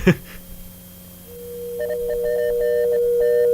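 A steady electronic tone hums, then a higher beep starts pulsing in short and long bursts like Morse code, fairly loud and clear.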